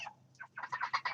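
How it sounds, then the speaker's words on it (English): Young chickens at about five weeks old give a short run of clucks and pops, close and fairly soft, several quick calls in a row with no talk over them. "So yeah, the chickens no longer peep. They now go pop, pop, pop."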